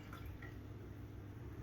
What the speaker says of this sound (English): You can hear the juice over there draining.